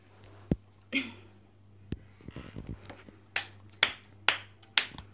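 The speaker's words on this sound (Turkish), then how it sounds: "Alkış yap hadi" A handful of sharp, isolated hand claps at a family sing-along, irregular and spaced apart, with a few quick softer taps in between over a low steady hum.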